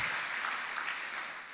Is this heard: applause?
yes